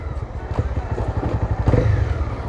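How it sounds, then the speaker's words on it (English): A motorcycle engine revs up in short blips while the rider brakes with the clutch pulled in, giving throaty pulsing bursts over low engine rumble, heard close from the rider's position. "That was rev matching, but with the clutch still pulled in because I'm still braking and I still need to turn."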